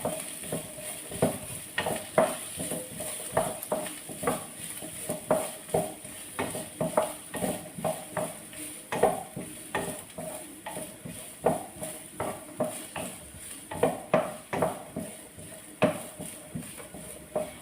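An ingredient fries in a pan while a spoon stirs it until it wilts. Rhythmic scrapes and clinks on the pan repeat steadily over a soft sizzle.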